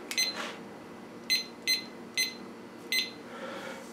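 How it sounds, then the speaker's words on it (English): A kitchen timer being set for 10 minutes chirps in a series of short, sharp electronic beeps, six or so spaced irregularly over a few seconds against quiet room tone. "I'm going to set a timer for 10 minutes."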